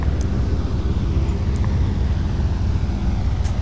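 Dash 8 turboprop airliner climbing in a flight simulator game, a steady broadband engine and airflow roar holding even throughout, with no voices.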